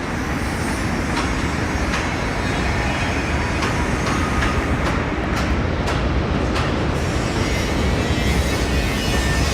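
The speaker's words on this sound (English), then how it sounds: "Oh, we got a train coming by," A train rumbles steadily across a bridge over the East River in New York City, a loud, continuous roar with faint rhythmic clacks, heard close with no talking.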